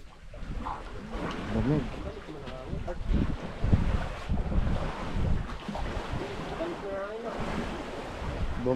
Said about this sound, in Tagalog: Bumaligtad na ang hangin.